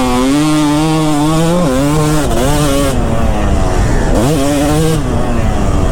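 A Kawasaki KX250 two-stroke dirt bike revs hard and close, its raspy engine note rising and falling in repeated surges of throttle, loud and continuous with no voices.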